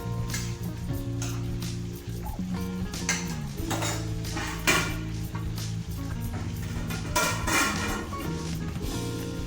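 Pumpkin, potato and Malabar spinach curry stirred in a pot, with steady scraping and clinking of a spoon against metal and a soft sizzle underneath, busy kitchen clatter throughout.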